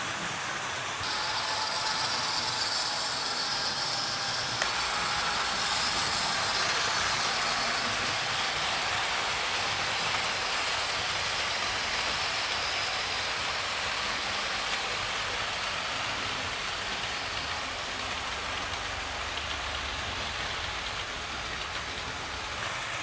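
An LMS Royal Scot steam locomotive, one of Sir Henry Fowler's designs, running with a steady loud hiss and rumble that holds without a break for over twenty seconds.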